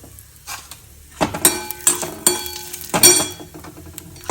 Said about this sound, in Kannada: ಇವಾಗಲೇ ಸಾಸಿವೆ ಪಟ ಪಟ ಹೇಳಕ್ಕೆ ಶುರು ಆಯಿತು